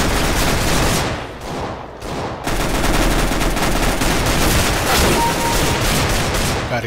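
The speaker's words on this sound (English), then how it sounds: "I can't get off this UMP-45. I can't get off the AK-47." UMP-45 and AK-47 gunfire in Counter-Strike: Global Offensive, loud sustained automatic bursts that rattle on almost without pause, close and dense, with a brief drop near the start.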